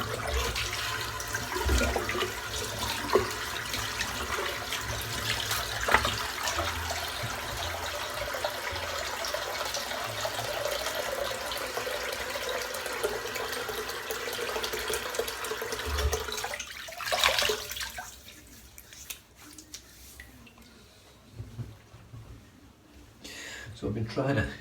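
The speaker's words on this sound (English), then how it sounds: "I'm just going to empty the sink" Water drains noisily from an emptied bathroom sink after a head shave, a steady rushing gurgle that runs continuously for most of the time, then cuts off abruptly into quieter room sound with light handling noises.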